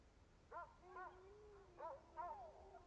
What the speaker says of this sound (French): Ah, c'est des chiens.